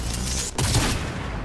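A charged rifle shot in Cyberpunk 2077 lands as one loud, broad blast about midway through. Sustained game noise surrounds it and there is no talk.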